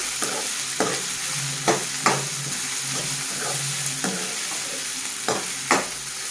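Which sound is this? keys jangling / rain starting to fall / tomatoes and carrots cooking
tomatoes and carrots cooking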